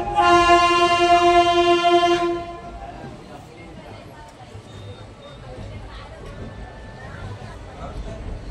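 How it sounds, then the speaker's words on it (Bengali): A train horn blares loudly for about two seconds as a train pulls out of Azimganj Junction, then gives way to the steady rumble of the moving train. "অবশেষে আমাদের ট্রেন আজিমগঞ্জ জংশন থেকে তার নির্দিষ্ট টাইমে ছাড়লো।"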